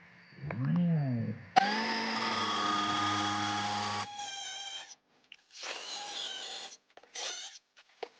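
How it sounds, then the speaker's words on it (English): Metal is ground with a power tool while an electric Harley-Davidson motorcycle is being built, a loud steady whine running a few seconds, then shorter intermittent bursts of grinding with gaps of quiet between. "Oh look, more grinding."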